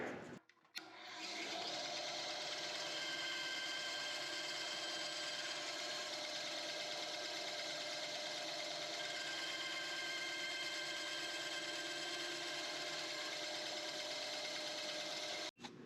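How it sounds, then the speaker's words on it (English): A bandsaw blade runs steadily through a gunstock wood ring blank making relief cuts, a loud continuous whine with tonal hum holding for about fifteen seconds, starting and stopping abruptly. "let's take him into the bandsaw, and we'll cut our relief cuts"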